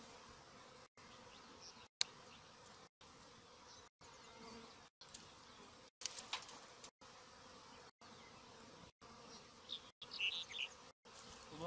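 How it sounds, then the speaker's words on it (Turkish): Bees buzz around a beehive as a captured swarm settles in, a faint, steady insect drone broken by brief regular dropouts, with a few sharper buzzes passing close. "Eğer arı kovana girdiyse anası oradadır."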